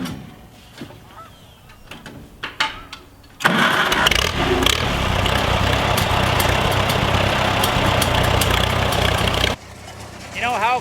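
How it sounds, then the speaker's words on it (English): A 1949 Farmall C tractor engine turns over and catches, then runs loud and steady up close for several seconds before cutting back, with voices talking briefly before it starts. "You know how cool it is to drive a 1949 Farm All-C"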